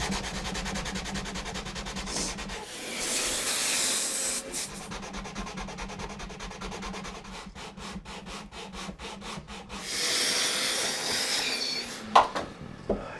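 An acoustic guitar fretboard is sanded to a radius: close, steady back-and-forth abrasive rasping in long strokes, with brief pauses and a couple of knocks near the end.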